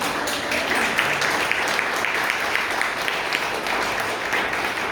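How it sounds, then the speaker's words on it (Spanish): A church congregation breaks into sustained, dense applause that fills the room evenly, with some voices mixed faintly into the clapping. "¿Por qué no le das un fuerte aplauso al Señor Jesús?"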